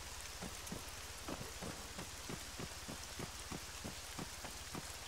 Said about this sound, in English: Hear that thunder, man?